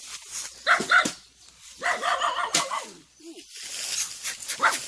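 A dog barks outdoors in a rubber plantation where people are gathering red ant eggs, giving a few short, close barks and whiny yips in scattered bursts, with quiet gaps between them.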